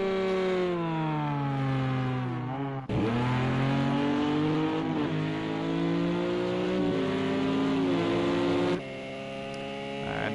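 A GTE race car in Project CARS 2 sweeps through the Porsche curve at Le Mans, its loud, close engine whine rising and falling through sharp gear shifts, with a brief faint tire squeal.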